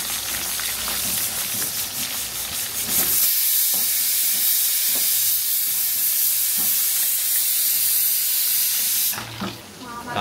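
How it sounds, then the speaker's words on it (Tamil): Quail fry hissing and sizzling in hot oil in a pan, a steady loud frying hiss with a few brief clinks and stirs, then fading briefly at the end. "காடை ஃப்ரை சிறப்பாக ரெடி ஆகிட்டு இருக்கு மக்களை."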